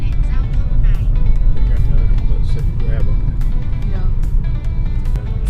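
Morning traffic in Ho Chi Minh City, mostly mopeds, forms a steady, loud street drone with passing engines, and people talk throughout.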